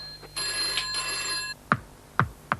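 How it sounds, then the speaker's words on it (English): A telephone rings with a bright electronic bell tone lasting about a second, followed by three sharp separate clangs spaced evenly apart, loud and close, with no talk. "Phones ring."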